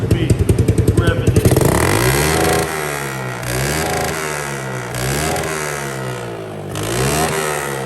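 A Yamaha Blaster ATV engine starts with rapid putters, then revs up and down repeatedly in loud whining surges, close by.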